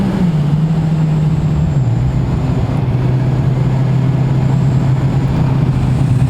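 A motorcycle being ridden on the road: a loud, steady engine drone with a low tone that dips slightly and holds, wind rush over it, and no voices.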